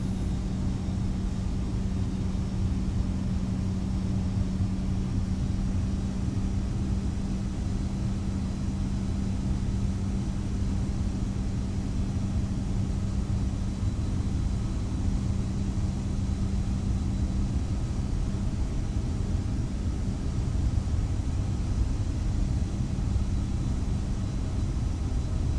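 Airbus A319 taxiing in Microsoft Flight Simulator on Xbox, a steady low engine rumble and hum that stays constant and moderately loud throughout, with no talk over it.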